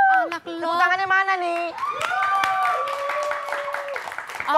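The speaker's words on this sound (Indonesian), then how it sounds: "Tepuk tangannya mana" Studio audience of a television talk show breaks into applause mixed with loud, high cheering and shouting voices, sustained and close throughout.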